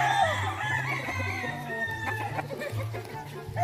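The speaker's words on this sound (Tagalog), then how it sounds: "Napakagandang mga klaseng manok." Roosters crow and chickens cluck on a hillside farm keeping gamecocks, several birds calling at once, near and fairly loud over a low background hum.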